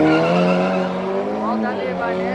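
Race cars launch off the line at a Killarney drag event, engines roaring loudly with rising and shifting tones and some tire squeal, the sound dense and close and running for a couple of seconds.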